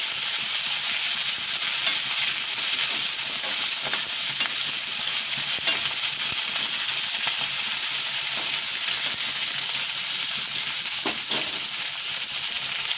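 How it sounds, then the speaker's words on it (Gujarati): Drumstick leaf curry (saragva leaves) sizzles steadily in a pan while it is stirred, a continuous bright frying hiss with faint scraping of the spoon and no voices. "હવે આપણે આને હલાવી દેવું"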